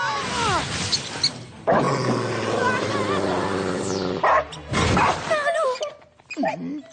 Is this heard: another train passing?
no